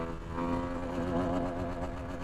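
A CF Moto NK300 motorcycle's engine revs up through a gear, a steady rising drone heard from close by for a couple of seconds with no talk.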